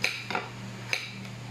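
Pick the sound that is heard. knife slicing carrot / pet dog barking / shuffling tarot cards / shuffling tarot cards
knife slicing carrot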